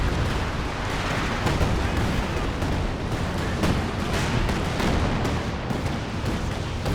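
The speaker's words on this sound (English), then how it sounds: "Assault artillery coming down." Dense, continuous artillery barrage from a Company of Heroes 2 match, booming blasts and rumbling impacts overlapping without pause for several seconds, loud and close, with no voices.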